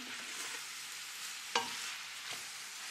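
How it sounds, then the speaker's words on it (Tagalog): Food being stirred in a frying pan over a steady, soft sizzle, with one sharp utensil scrape near the middle and a fainter one after it, close and quiet with no talking. "At pagkatapos niyan, haluin ang haluin."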